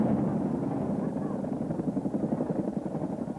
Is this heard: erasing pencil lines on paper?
no